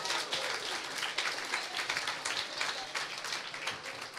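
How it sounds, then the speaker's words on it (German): Steady applause fills a room at a youth hackathon presentation event in Berlin: continuous, moderately distant clapping from an audience throughout, with no speech standing out. "Applaus!"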